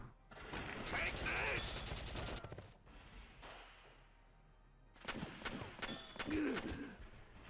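Bursts of gunfire in the Valkyria Chronicles strategy game come in two clusters of rapid shots separated by a quieter lull, fairly faint overall, with a voice talking alongside.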